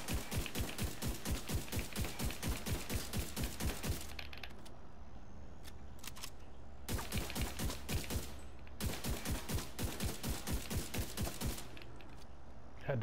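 Rapid automatic gunfire in a video game raid, long bursts of evenly spaced sharp shots with a short pause and a brief lull between bursts, loud and close.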